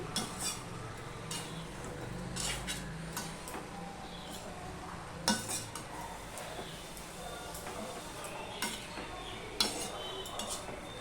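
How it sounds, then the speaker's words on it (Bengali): A vegetable curry made without onion or garlic is turned over in a pan on a gas stove, giving scattered scraping and clinking strokes of a utensil against the pan over a steady low background. "তরকারিটা আমি ওপর নিচ করে দিচ্ছি"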